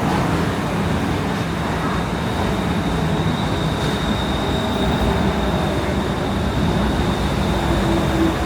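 A Bangkok metro train rolls along inside the carriage, giving a loud, steady rumble of wheels and rails with a faint high whine running through it and no break.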